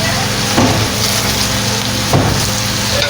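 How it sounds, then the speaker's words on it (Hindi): Potato, cauliflower and mutton sizzle while roasting over a high flame, a steady loud frying hiss broken by two brief scraping stirs. "बस थोड़ी सी इसकी भुनाई करनी है तेज़ आंच पे।"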